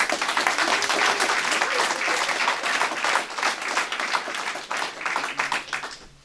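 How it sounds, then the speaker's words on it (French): A crowd at a rugby clubhouse inauguration claps for the club's founder, dense, lively applause that stays loud throughout and thins slightly toward the end. "Je crois qu'on peut l'applaudir."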